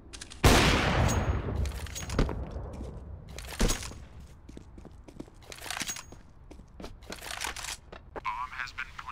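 Gunfire in a bomb-defusal shooter game: a loud burst opens, then scattered sharp shots and short volleys continue throughout, mixed with footsteps and clatter while players call out under the action.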